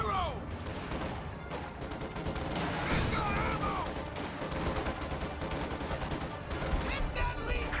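Anti-tank gun fire in a strategy war game, dense overlapping booms and crackling gunfire that stay loud and steady through the whole stretch of a busy battle soundscape.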